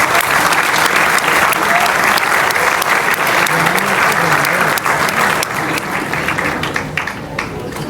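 A literary event audience gives loud, sustained applause as a writer is welcomed to the stage, a dense wall of clapping that gradually thins toward the end.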